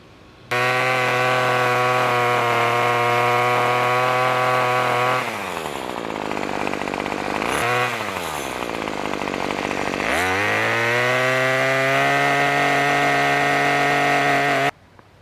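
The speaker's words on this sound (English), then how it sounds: "one of which is the pole saw. So I use it for limbing up these trees" A gas pole saw limbing up yard trees runs loud and steady, its engine note dipping and bogging several times as the chain bites into branches before climbing back to a high whine.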